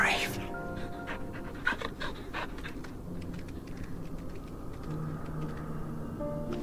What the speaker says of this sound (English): the smallest little pup on the East Coast